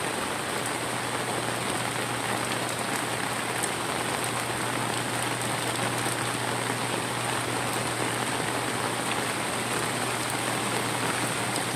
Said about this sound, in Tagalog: parang normal lang siyang ulan